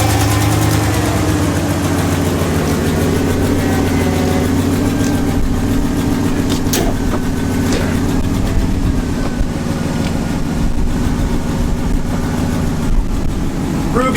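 A Chevrolet Avalanche engine idles close by after a jump start, running as a loud, continuous mid-to-low rumble with a few small clicks and knocks on top.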